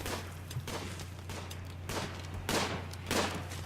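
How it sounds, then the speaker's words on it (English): Bursts of gunfire in the colony-building video game RimWorld, a scattered fusillade of repeated shots over a constant low hum, fairly faint and with no talking. "Oh, who's doing the shooting?"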